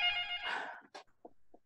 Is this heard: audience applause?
no